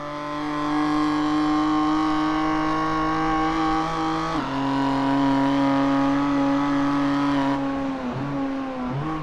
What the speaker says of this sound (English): The view out of the front of Moz's BMW